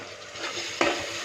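Onions and tomatoes fry in a pan, a soft continuous sizzle broken by a sharp scrape of the spoon as they are stirred, close and alone without talk.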